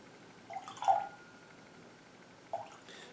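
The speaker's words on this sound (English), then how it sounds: "We'll stick a little bit of water in there." A few small drops of water fall into a glass of Auchentoshan American Oak single malt whisky at 40%, giving two soft, close liquid plips a second or so apart in a quiet room.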